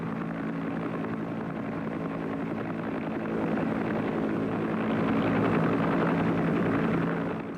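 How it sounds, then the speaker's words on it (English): A Huey Cobra helicopter gunship's steady rotor thump and engine roar, loud and continuous, growing slightly louder toward the end with no voices. "The most effective helicopter gunship in American service was the Huey Cobra."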